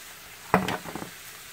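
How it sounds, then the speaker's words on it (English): Spinach dropped into a hot pan of cooking shrimp gives a brief burst of close sizzling and frying, with a quick stir-like rustle that fades within about half a second. "Now I add the spinach."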